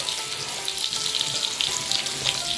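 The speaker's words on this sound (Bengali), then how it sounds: "এখন ভেজে নেব।" Pointed gourd stuffed with paneer frying in hot oil, a steady dense sizzle with a hissing, watery crackle throughout, close and alone with no voices.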